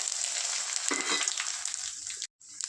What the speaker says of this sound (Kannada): ಇವಾಗ ಒಂದೆರಡು ನಿಮಿಷ ಹಿಂಗೆ ಗಮ್ಮನಂಗೆ ಸ್ಮೆಲ್ ಬರೋಂಗೆ ಫ್ರೈ ಮಾಡೋಣ